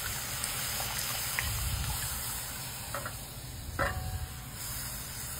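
Boiled tomato goes into hot oil for South Indian rasam, setting off a steady, close sizzle with soft bubbling and stirring, plus a short splash and clink partway through.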